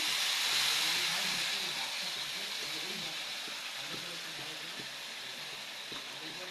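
Marinated pangas fish hissing in hot oil with cumin in a pan, a steady broad sizzle that starts loud and slowly fades, with a few faint clicks underneath and no talking.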